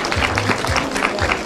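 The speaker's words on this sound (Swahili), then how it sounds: "Makofi kabisa." Applause fills a crowded farewell party for a politician's daughter, a short burst of dense, steady hand clapping from a gathered audience, fairly loud and close.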